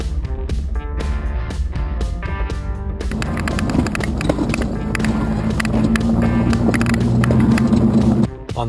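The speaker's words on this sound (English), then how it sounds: "Despite airing down, we were still bounced around inside the Jeep" Jeep with aired-down tires crawling slowly over jagged lava rock, close rumbling and clattering bumps running steadily throughout, the noise swelling toward the end, with music playing.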